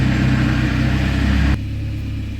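A Vauxhall VXR car engine idles through a straight-through exhaust with a Skyline or Subaru back box, a deep, throaty rumble, loud and close, then drops to a quieter idle partway through.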